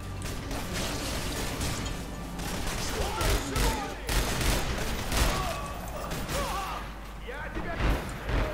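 Rapid bursts of gunfire from the video game Darkness 2 crackle repeatedly over a dense, busy mix of ambient effects, steady and fairly loud throughout.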